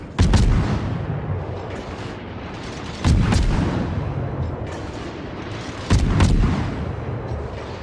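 Three heavy battleship gun salvos boom in World of Warships, evenly spaced about three seconds apart, each a loud sharp blast that rumbles and decays slowly into a low background roar.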